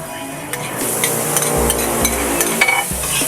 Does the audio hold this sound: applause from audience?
no